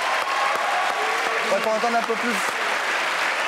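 Studio audience on a French TV talk show applauding in a steady wash of clapping that holds throughout, with a presenter speaking over it partway through.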